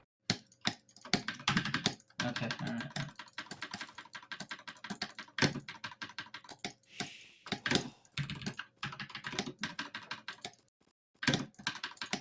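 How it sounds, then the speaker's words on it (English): Fast, hard typing on a computer keyboard during a gaming coaching session, with dense bursts of close clattering keystrokes broken by short pauses and a brief spoken remark partway through. "Man, that keyboard needs therapy after you."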